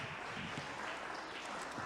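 Church congregation clapping in praise to God during an evangelical service, a dense steady wash of hand claps with no break, moderately loud throughout.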